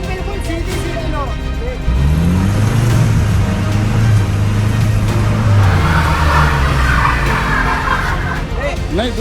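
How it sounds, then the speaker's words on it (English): A car with an automatic transmission strains out of a muddy Indian road, its engine revving and whining in rising and falling sweeps with wheel spin, loud and close. "While the car was coming out of the mud"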